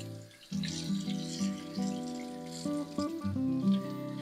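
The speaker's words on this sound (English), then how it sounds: "make sure that you rinse it thoroughly to get all the soap off and out" Tap water runs steadily over a circuit board to rinse soap away, a continuous close splashing stream with a ringing, hollow tone that shifts slightly as the board is moved under the flow.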